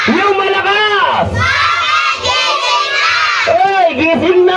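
A crowd of children at a first birthday party shouts loudly in unison, their voices rising and falling in long, strained calls to wake a sleeping puppet, close and continuous throughout.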